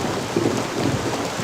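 Steady heavy rain with a low rumble of thunder, a dense continuous wash of noise at close range with no voices.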